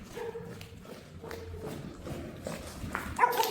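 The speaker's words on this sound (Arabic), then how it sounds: "اسمع الكلاب، اسمع الكلاب" Several dogs bark at a distance around an abandoned palace, irregular and fairly faint against scuffing footsteps and outdoor background, with a louder burst near the end.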